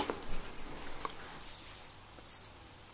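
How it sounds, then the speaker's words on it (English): Crickets chirp at night in a room with a pet snake enclosure, a faint, steady high-pitched trilling with a few brief louder chirps near the end, no voices present. "There's crickets in there"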